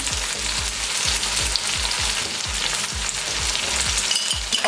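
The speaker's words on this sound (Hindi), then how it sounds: "अब इसको 2 से 3 मिनट के लिए अच्छे से भून लेंगे।" Boiled chickpeas fry with ginger garlic paste in a pan, giving a loud, steady sizzle with regular clinks of stirring throughout; no talking.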